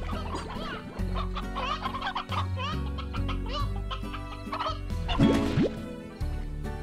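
Chickens cluck in the Slime Rancher video game, with repeated short clucks and squawks layered over steady game music and a few plopping effects. The sounds run continuously at moderate loudness.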